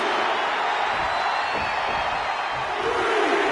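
Dense crowd noise from a wrestling video game arena, a steady loud roar of cheering and shouting that fills the whole stretch without letup.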